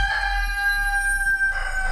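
A young rooster crows loudly and close, one sustained, slightly strained call lasting most of the moment, with no talk over it.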